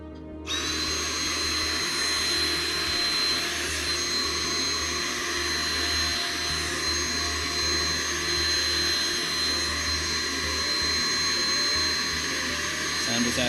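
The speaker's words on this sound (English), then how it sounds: "I'm going to grab a vacuum." Vacuum cleaner cleaning computer parts, starting abruptly and running as a loud, steady whine with a high tonal hum, close to the microphone throughout.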